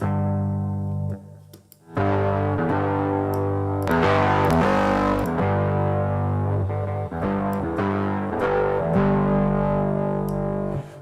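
Pop beat music played through an overdrive distortion effect, a thick, buzzy, sustained tone that drops out briefly, then returns with rhythmic chopped stabs and heavy low end, loud and unaccompanied by voices.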